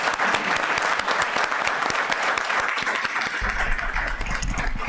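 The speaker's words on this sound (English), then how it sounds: "Would you please join me and give them a round of applause?" Audience at a town council meeting applauding award nominees: dense, sustained clapping from a room full of people, loud and even throughout, with no voices over it.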